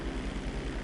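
A propeller airplane in GTA 5 Online, one propeller damaged, drones with a steady pulsing engine hum, close and continuous.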